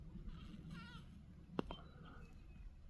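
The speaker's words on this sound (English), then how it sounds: "I got sheep all the way down there" Sheep, a ewe and her lamb among a small ranch flock, bleating faintly and far off across a field, a few wavering calls over quiet background noise with a brief knock.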